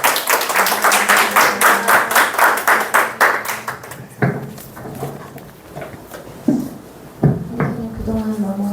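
An audience at a church teaching session bursts into clapping, a dense close burst of many hands that fades after about four seconds into scattered claps and brief voices.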